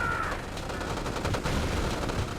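Tank cannon fire against a base in the strategy game Red Alert 2: Yuri's Revenge, dense bursts of gunfire and explosions crackling continuously over a steady game noise bed, with no talk.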